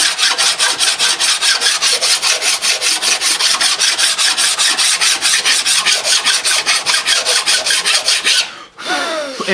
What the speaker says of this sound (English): best thing to use is a flat file. It actually gets it super smooth.